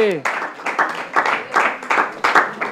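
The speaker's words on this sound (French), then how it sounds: "Est-ce qu'on peut applaudir très fort?" An audience at the Dolait Show competition final claps for a guest from the Institut de la Gombe, bursts of applause with distinct rhythmic claps mixed under a speaking voice.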